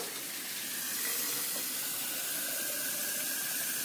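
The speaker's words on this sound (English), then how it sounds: "Let me get a glass of water." A kitchen tap runs steadily as water pours into a glass, a continuous bright hissing splash that holds for a few seconds without talk.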